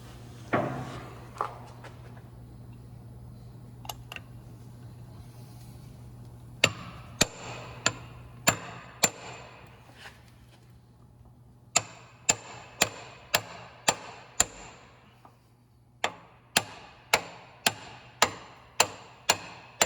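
Transmission rear seal on a 2008 Ford Ranger being driven in with sharp, ringing hammer taps in quick series of four to six strikes separated by pauses, close and loud over quiet background.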